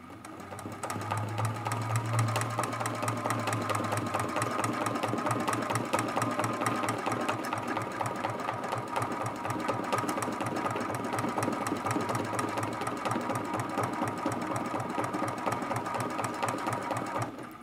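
A sewing machine stitches steadily at a moderate, unhurried pace while quilting the Lamp Post art quilt, a continuous rapid mechanical chatter with a low motor hum underneath, close and even throughout, no voices.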